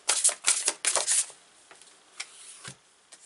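Sacred Destiny oracle cards are shuffled in a quick, dense riffle of papery flutters, close and fairly loud, and then a few softer taps and slides as a card is drawn.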